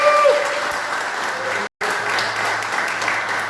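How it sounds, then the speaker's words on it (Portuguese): A church congregation applauds steadily, a dense wash of clapping under a brief break partway through, with faint voices mixed in. "Aplauda Ele."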